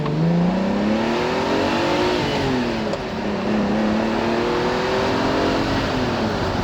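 1988 Ferrari Testarossa engine revving up and settling in a loud, sustained roar with rising and falling pitch, heard close.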